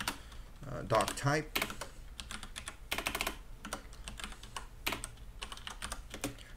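Rapid keyboard typing while HTML code is entered on a computer, bursts of keystrokes clattering close by with short pauses, and a voice speaking briefly over them.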